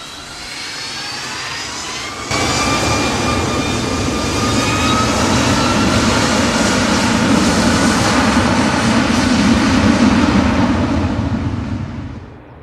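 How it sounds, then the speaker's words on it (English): Steady, loud drone of an airliner's engines in flight, a continuous broadband roar with faint high tonal whines, holding evenly throughout and easing off at the very end. "and then boarded the plane"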